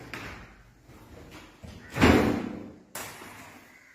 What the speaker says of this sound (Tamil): இப்போ இந்த கதவை கொஞ்சமாக தூக்கி தனியாக எடுத்துடலாம்